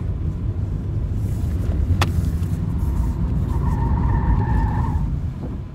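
A Suzuki Swift with a 1.4L Boosterjet turbo brakes hard. A steady, loud road rumble runs throughout, and a short tonal squeal of tyres or brakes rises near the end before the noise eases off.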